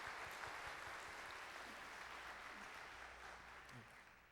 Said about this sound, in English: Let's give Beth a round of applause.